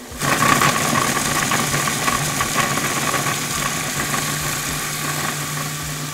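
A blender spins dates with organic extra virgin coconut oil, kicking in abruptly and then holding a loud, steady motor whir with a grinding rattle for several seconds.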